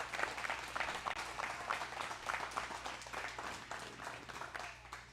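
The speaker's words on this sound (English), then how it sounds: "let's give them a round of applause and thank them for all they've done" A studio audience at a coaches' show gives a round of applause, a dense, steady wash of clapping that runs throughout and fades slightly at the end, heard from a moderate distance.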